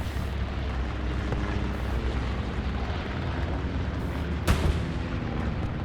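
A bombing run strikes in the World War II shooter Hell Let Loose, a rumbling barrage of distant low booms under steady battlefield noise, with one sharper crack near the end.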